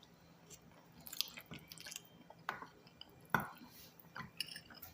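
Close, wet chewing and biting while tasting a new homemade Italian dish, scattered soft squishes and a few sharper crunchy clicks over a quiet background, with no talking.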